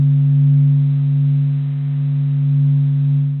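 A sound reconstruction of the sun, built from its amplitudes and frequencies, gives a steady, low droning hum with a stable tone, loud and continuous with slight swells and no voices.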